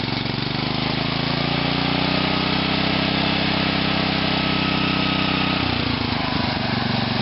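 A small Ofna carburetor engine with a heavily restricted air intake runs loud and close, a steady buzzing drone that shifts in pitch near the end as it revs.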